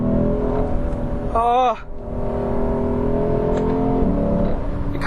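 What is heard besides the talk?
V8 sedan engine revving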